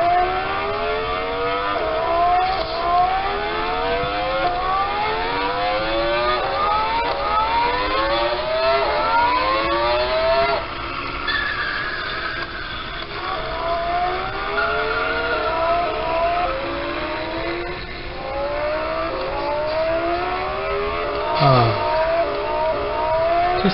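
A Lamborghini in the Roblox game Vehicle Simulator repeatedly revs its engine, rising whines sweeping up again and again in a steady rhythm, with tire squeals layered in, loud and continuous for the whole stretch.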